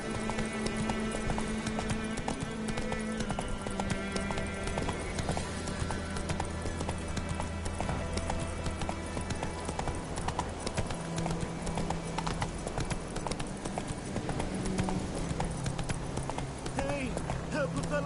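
The horse Roach galloping in Witcher 3, rapid rhythmic hoofbeats running steadily under game music and voices.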